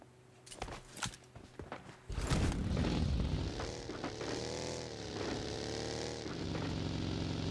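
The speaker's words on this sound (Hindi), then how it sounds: "मुझे कार की आवाज़ आती है" A car drives through a PUBG Mobile Lite match, a loud, steady engine drone that swells and holds after a few scattered footstep-like taps, with no talk over it.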